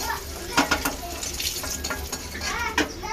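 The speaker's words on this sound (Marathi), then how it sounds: "पावडर तर याला आपण पहिले फ्राय करून घेणार. चांगले गोल्डन कलर होईपर्यंत आपण फ्राय करून घेणार." Spice powder fries in a pan for egg curry, a soft sizzle broken by a few scraping stirs of a spoon against the metal.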